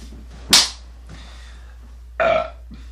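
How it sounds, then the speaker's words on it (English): Beer-drinking burps: one sharp, loud belch, then after a pause a second, longer croaking burp, both close to the listener. "Hashtag beer burps"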